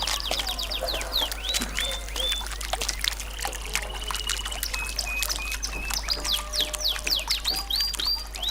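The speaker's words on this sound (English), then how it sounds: "The sky, a bird." Birds chirp and call again and again in quick, sharp bursts, several at once, over a steady low hum and a soft trickling background.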